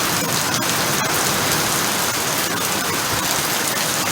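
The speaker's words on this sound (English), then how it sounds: "We've got some major storms here." Heavy rain pours down in a major storm, a dense, loud and continuous hiss of drops drumming on surfaces, close and unbroken, with no voices over it.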